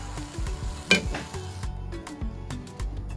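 Bamboo shoots (labong) stirred with a ladle in a small frying pan, a sizzle under clanks of the utensil against the pan, with a sharp scrape near the start and quieter stirring knocks afterward.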